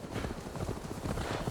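A horse's hooves clip-clopping in the video game Assassin's Creed Valhalla: a steady, fairly loud rhythmic trot over a dense, busy game soundscape, with no talk.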